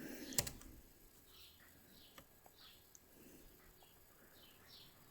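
Soft, sparse key clicks come from a computer keyboard as a terminal command is typed on an Ubuntu machine, faint and irregular over a quiet room background.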